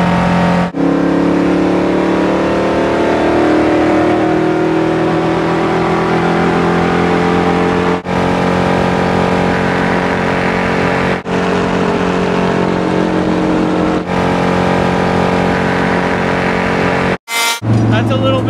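NASCAR race car lapping Dover International Speedway, heard from inside the cabin as a loud, sustained engine roar that holds near constant speed, with brief dips and speech over it.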